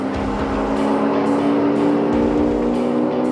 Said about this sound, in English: Big wheel spin. He's on the street tyres though.